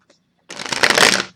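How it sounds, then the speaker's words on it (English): A deck of tarot cards is shuffled up close in one quick, dense riffle lasting about a second, after a faint tap, with no talking. "I shuffle these cards numerous of times"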